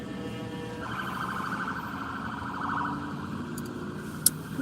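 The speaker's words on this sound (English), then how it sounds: "I hear sirens." Distant emergency sirens wail and hold steady tones in the background, faint and somewhat muffled, with a brief sharp sound near the end.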